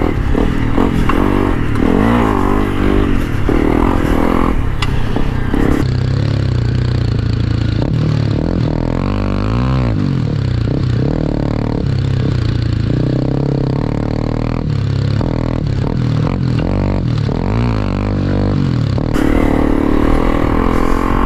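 A Honda CRF300 Rally motorcycle is ridden on a dirt trail, its engine loud and close throughout, revving up and down with rattling and scraping.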